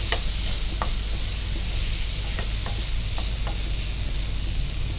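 Andhra-style fish frying in a pan with garam masala and coriander powder, a dense continuous sizzle with occasional light stirring taps, close and steady throughout.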